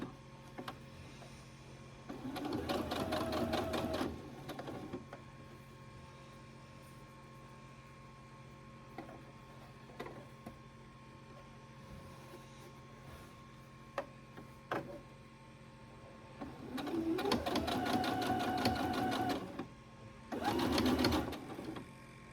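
Sewing machine stitching fabric in bursts: a short run of rapid needle clatter early on, then a longer run and a brief final burst later, separated by quiet stretches of low hum and small handling clicks.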